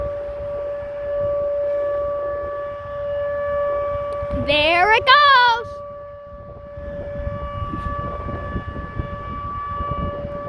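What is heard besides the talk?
outdoor civil defense tornado siren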